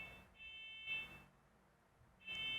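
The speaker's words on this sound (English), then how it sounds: "Sounds like a fire alarm." A fire alarm sounds somewhere in a house, a faint, distant electronic buzzing that comes in two separate bursts against a quiet room, with no talking.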